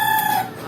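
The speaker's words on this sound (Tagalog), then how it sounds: "pasensya na po may manok" A chicken gives a loud, drawn-out cluck nearby, a single held call that cuts off abruptly.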